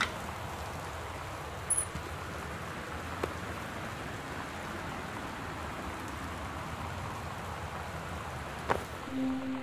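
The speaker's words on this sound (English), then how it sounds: "The Northwest Weather Service reports high winds and torrential rainfall." Torrential rain pours steadily in the game Gone Home, a constant even hiss of downpour with faint scattered drips and a couple of soft knocks, no voices.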